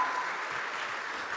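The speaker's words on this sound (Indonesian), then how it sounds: "Tepuk tangan dulu" Audience applause for Pak Ganjar at a youth summit session, a steady wash of clapping from a crowd throughout, moderately loud and without talk.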